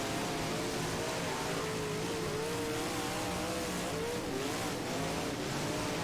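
Race car engine in the rFactor racing sim, a Highliner on the Glenridge circuit, droning steadily and loud throughout with a sustained high-revving tone near the rev limiter and slight pitch shifts, no talk.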